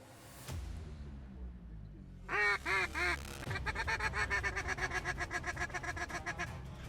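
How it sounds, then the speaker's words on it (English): Pintail and mallard ducks quack loudly nearby in a short run of honking calls over a flooded wheat field in North Dakota, followed by a rapid chattering series of quacks from a flock. "A lot of pintails there, but there's some few mallards mixed in there."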